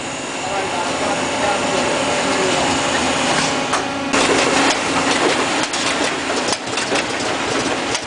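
Mail-processing conveyor machinery runs steadily inside a USPS processing and distribution center in Brooklyn, a loud continuous mechanical roar and whir with broadband clatter throughout.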